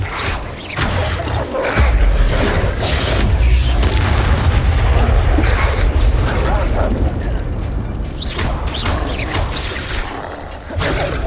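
Spell blasts and fiery bursts in the wizarding game Hogwarts Legacy arrive as heavy rumbling booms with whooshing swishes and sharp cracks, loud and sustained, with some talk mixed underneath.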